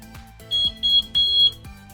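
Three short electronic beeps in a row from an oven timer, clear and fairly loud, with faint background noise between them.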